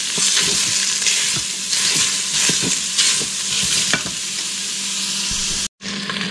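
Italian sausage browning in a pot for lasagna soup, a loud continuous sizzle and crackle up close with intermittent scraping and stirring of the meat, cut briefly near the end, no voices.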